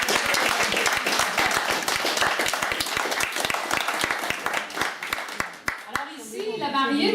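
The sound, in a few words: audience applauding at a wedding ceremony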